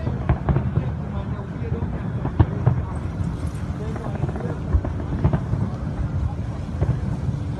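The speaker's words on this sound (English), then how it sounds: "We can see the fireworks here." Fourth of July fireworks over the water at Christopher Park in New York, with steady distant booms and crackles rolling under a constant murmur of crowd noise and scattered voices.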